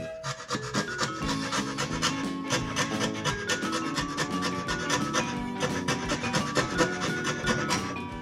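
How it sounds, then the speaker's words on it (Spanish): A coarse-grit file rasps against wood in quick, rhythmic back-and-forth strokes, close and continuous throughout, with no talking. "me voy a acercar mejor a la línea utilizando primero la de grano grueso"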